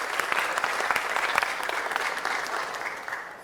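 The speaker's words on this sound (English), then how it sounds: "So let's give them a round of applause for that incredible honor." Audience members at a city council meeting give a round of applause, brisk crowd clapping with some sharp individual claps standing out, tapering off near the end, with no voices over it.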